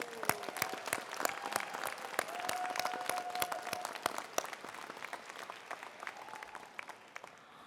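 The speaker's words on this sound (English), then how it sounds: "let's give a round of applause to the family and the friends" Commencement audience at a college graduation ceremony claps steadily for families and friends, a dense, sustained round of applause from a large crowd lasting throughout, with a faint tonal whistle or voice drifting underneath.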